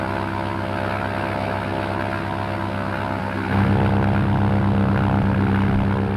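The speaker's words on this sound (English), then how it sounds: "The engine setup of this plane has a unique sound, and the developers took note of that." Twin engines of a Cessna 337G Skymaster in the FlightGear flight simulator drone steadily with a thick propeller hum, stepping up louder and deeper about halfway through as the power rises, with no talking.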